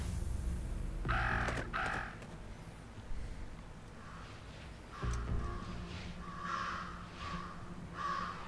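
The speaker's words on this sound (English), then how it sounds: "Talk about a murder of crows." Crows cawing in the video game Jenny LeClue: several harsh caws come in bursts, moderately loud against a quiet steady background, with no talk.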